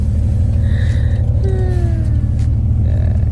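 A bus engine rumbles steadily through a ride, a deep continuous drone that stays loud throughout, with faint passing tones and background voices over it.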